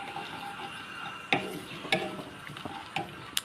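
Whole cumin seeds crackle faintly in hot oil while a spoon stirs them, with a soft sizzle broken by several sharp scraping clicks against the pan, no speech.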